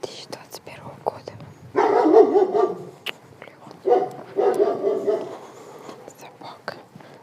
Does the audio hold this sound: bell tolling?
no